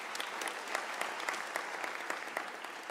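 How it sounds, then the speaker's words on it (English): Audience applause at a University of South Africa autumn graduation ceremony, a steady dense patter of many hands clapping in a large crowd, sustained and even throughout. "I think they deserve a round of applause."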